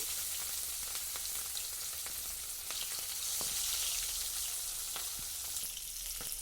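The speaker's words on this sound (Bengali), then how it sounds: "এবার আমি মাছগুলো তেলের মধ্যে দিয়ে দেবো" Fish pieces fry steadily in hot mustard oil in a wok, a dense continuous sizzle with occasional sharp pops and crackles, fairly close and alone without voices.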